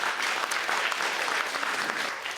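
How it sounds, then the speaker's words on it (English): Audience applause at an improv theatre show, steady and dense throughout, a full room of hands clapping together without pause at an even level. "Round of applause for Julie"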